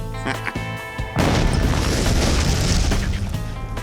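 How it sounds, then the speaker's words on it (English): A C4 plastic explosive goes off with a sudden loud, sharp boom after a brief lead-in, then a rumbling roar that fades slowly over a few seconds. "The high-speed explosives, like the plastic explosives, C4, etc., those tend to be really snappy."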